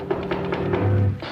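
Several quick light taps rap on a wooden door in a 1955 radio drama, a short irregular series of knocks close by over a low steady hum, with no talking.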